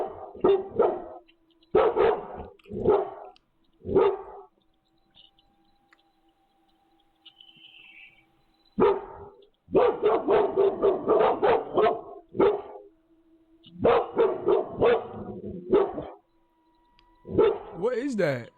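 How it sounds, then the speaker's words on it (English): A dog barks on security camera footage in repeated close bursts of loud barks, with stretches of quiet between them and people talking over parts of it. "hoping to finally uncover what had been setting her dog off"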